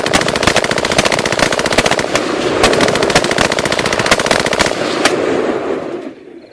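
Sustained M16 rifle fire from several mercenary soldiers clearing a hut in a war scene, a loud dense stream of rapid automatic bursts with sharp cracks that continues for about six seconds before abruptly dropping away.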